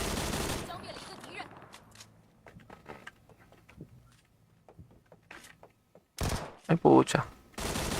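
Bursts of video game gunfire, rapid volleys at the start and end with quieter scattered shots between, under a voice.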